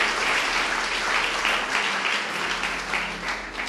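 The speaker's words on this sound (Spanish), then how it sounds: "¿Cuántos aplauden el nombre del bendito sea?" A church congregation applauds during a sermon, a continuous burst of many hands clapping at moderate volume. No talking rises above the clapping.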